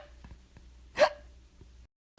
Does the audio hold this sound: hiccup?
yes